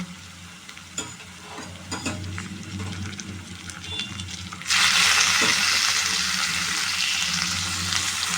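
Chicken pieces hit a pan of fried onions and spices, and quieter stirring and clinks give way to a sudden loud, sustained sizzle that holds steady to the end.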